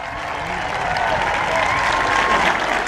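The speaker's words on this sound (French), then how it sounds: "Un tonnerre d'applaudissements donc pour l'équipe d'Espagne" An audience bursts into sustained, dense applause for the Spanish under-21 team at an international tournament match against France, steady and loud throughout with a faint crowd murmur beneath.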